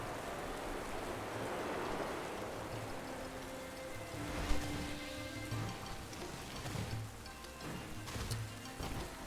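Rain falls steadily in Pokémon Violet, a soft, continuous patter with light splashes that stays fairly quiet and even throughout, with no voices over it.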